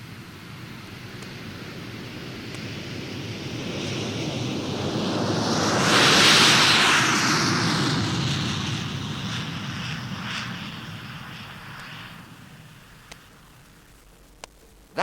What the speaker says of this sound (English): That was a Douglas DC-8, blasting down the runway on its way to San Francisco.